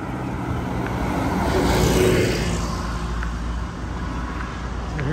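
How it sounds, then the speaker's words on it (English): An armored car drives down a street in San Fernando, Iloilo, its engine rumbling as it approaches, swelling to a peak and then fading, against background traffic noise. "So here comes an armored car down the street."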